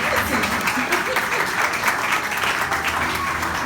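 Church congregation applauding visitors at a Sunday gathering, a steady wash of many hands clapping throughout, fairly close and even in loudness.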